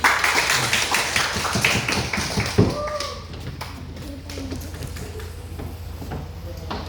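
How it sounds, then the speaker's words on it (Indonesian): A school class in Asmat, South Papua, applauds for a group with brisk, dense clapping for about two and a half seconds, then the claps thin out and the room settles into quiet murmurs. "Tepuk tangan untuk kelompok 2 dulu."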